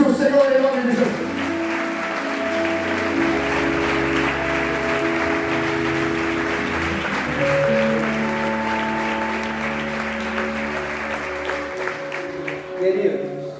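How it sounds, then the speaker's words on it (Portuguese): A church congregation applauds at a ministerial training gathering, with broad sustained clapping over sustained keyboard chords and a voice speaking faintly beneath, rising briefly near the end. "Você pode aplaudir o Senhor em nome de Jesus"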